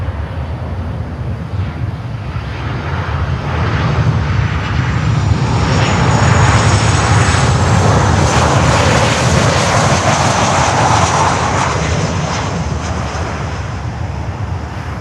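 Alaska Airlines jet at Miami airport, a loud broad engine roar that swells and holds steady as the airplane passes close, with no talking.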